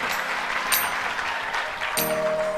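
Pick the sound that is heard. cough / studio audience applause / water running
studio audience applause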